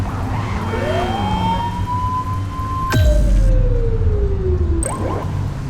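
A police car siren in the video game The Precinct rises into a long wail, cuts off abruptly, then sweeps down in a falling tone before a short whoop, loud over a steady engine rumble.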